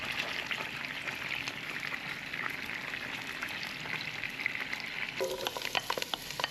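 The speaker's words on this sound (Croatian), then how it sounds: "ubacimo sitno sjeckano povrće da se dinsta" Finely chopped vegetables go into the fat left from frying venison in a pan and sauté with a steady, fairly quiet sizzle. A sharper burst of crackling and spattering follows near the end.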